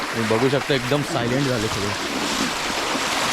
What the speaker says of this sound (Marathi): आता पाण्याचा आवाज